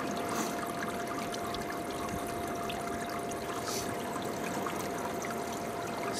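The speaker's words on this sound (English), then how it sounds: "using a bilge pump to keep water flowing over the gills" A steady trickle of water pours from a bilge pump over a cutthroat trout's gills during fish surgery, a constant close, moderate flow with a faint hum and no talking.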